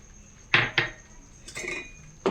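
A metal spoon knocks and scrapes against a pot as tomato gravy is added and stirred, producing a few sharp clinks amid short scraping sounds in a quiet kitchen.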